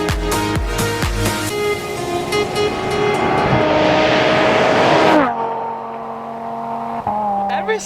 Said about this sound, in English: There's nothing more fun than a lake bed and a Lamborghini.